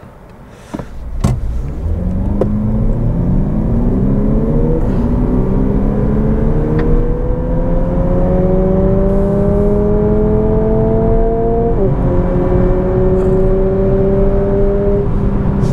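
A Lexus UX 250h hybrid compact SUV accelerating hard from standstill to 100 km/h in Sport Plus mode, engine and artificial active sound rising steadily in pitch inside the cabin, with one brief dip and resumed climb midway.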